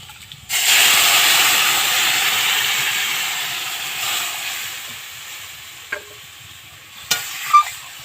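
Water poured into a pan of frying potatoes with turmeric, hitting hot oil in a sudden loud hissing burst that slowly fades into a simmering sizzle, followed by a few clinks of a utensil.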